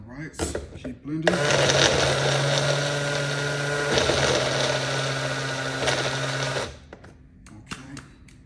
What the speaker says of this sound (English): And we're doing this so it can blend all the fruits